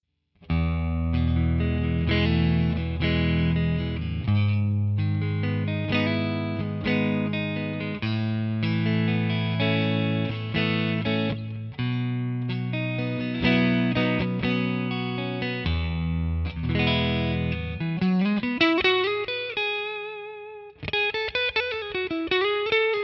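Electric guitar played through a Two Rock amp model on a Tonex with a Classic Reverb effect, strummed chords and single notes ringing loud and sustained, ending in bending lead phrases, no voices.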